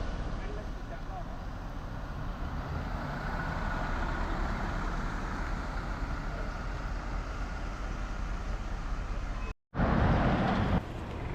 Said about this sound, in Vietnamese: Là cái xe buýt để chở học sinh đi học.